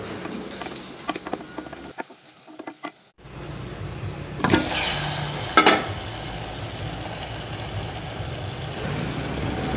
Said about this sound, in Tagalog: Ukay-ukayin hanggang sa lumambot na at luto na yung chicken.